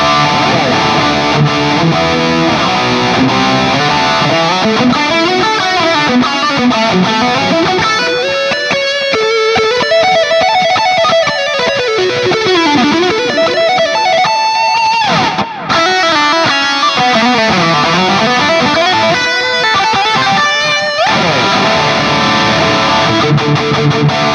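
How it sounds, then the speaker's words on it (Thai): A heavily distorted Fender American Professional II electric guitar with DiMarzio pickups plays sustained, bending lead lines and chords, loud and continuous throughout. "เดี๋ยวผมจะลองกับภาคเสียงแตกนะ ภาคเสียงแตกผมจะจำลองเป็น MEV 5050DS นะครับ"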